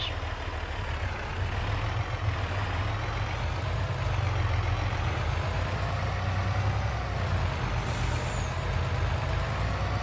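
A rented truck with air brakes runs steadily and close, a loud, continuous low engine drone with hissing air noise throughout, no voices.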